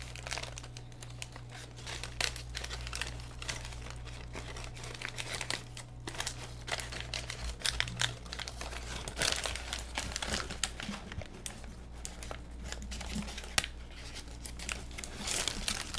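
Origami paper is unfolded from a sink fold, giving soft, irregular crinkles and crisp rustles at close range that stay faint and go on without pause.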